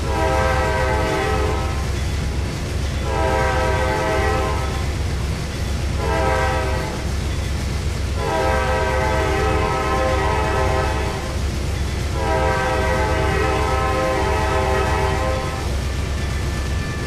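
A passenger train on a Detroit-to-Chicago run in the Trainz 2022 simulator sounds its horn in repeated long blasts over a constant loud rolling rumble with faint clickety-clack.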